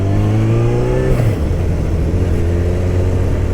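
A Suzuki Bandit motorcycle engine, close and loud, revs and then drops back to a steady, throaty running note with a rising whine early on and no talk.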